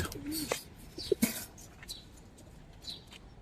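Silver coloring pigeons give a few soft, brief coos, faint and close, with quiet gaps of near silence between the calls.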